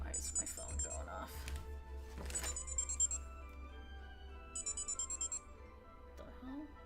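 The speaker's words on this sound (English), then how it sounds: "Why is my phone going off?" A phone rings in a Genshin Impact game scene, with bursts of high, warbling tones repeating in short patterned groups over a steady low music bed and other game sounds.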